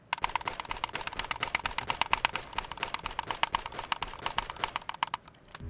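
Rapid, rhythmic mouse clicks firing a single-shot gun in Escape from Tarkov, in a dense stream, crisp and close, with brief gaps before a final burst.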